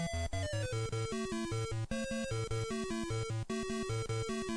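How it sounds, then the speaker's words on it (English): Chiptune-style Pac-Man stage music from Super Smash Bros. plays alone, with a steady bouncing bass line and bright looping arcade melody at moderate loudness. "do all the Pac-Man songs in Smash Bros. Sound like this?"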